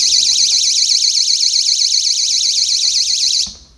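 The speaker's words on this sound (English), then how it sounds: "and now this is the alarm mode." A wireless magnet-activated window and door alarm blares in alarm mode, a loud continuous warbling siren that holds steady for over three seconds, then cuts off abruptly.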